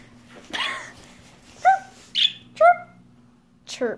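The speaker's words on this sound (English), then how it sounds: "Chirps." A bird gives several short chirps in a room, with a dog also heard, brief tonal calls spaced apart over a low steady hum.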